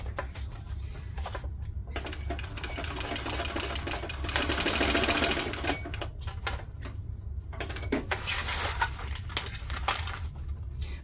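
A sewing machine stitching the lining seam of a fabric pouch, with a rapid mechanical chatter in bursts, a steady low motor hum underneath and brief pauses between runs.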